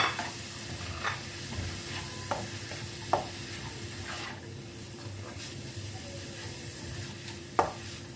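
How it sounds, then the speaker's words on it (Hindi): Shredded cabbage sizzles and fries in a pan while being stirred for a Chinese kabab recipe, a continuous hiss broken by several sharp scraping stir strokes. "साथ में इसके बंद गोभी डाल लेंगे और इसको भी हम अच्छे से मिक्स कर लेते हैं"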